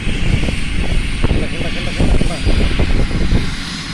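Loud, continuous rotor and engine roar of a large helicopter close by, with a steady thudding rhythm and people talking over the din.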